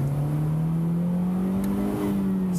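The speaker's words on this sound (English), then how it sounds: "Shift down. First gear it is. Listen to my automobile." A manual-transmission Scion tC accelerates in first gear, its engine note climbing steadily and loud from close by inside the car, with no talking.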